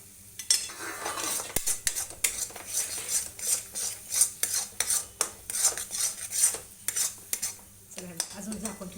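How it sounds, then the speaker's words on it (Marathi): Masala for a village-style mutton curry roasting in oil in a pot, with brisk repeated metal spoon scrapes and clinks against the pot, close and fairly loud, in a steady stirring rhythm with no talk. "मसाला चांगला भाजूया"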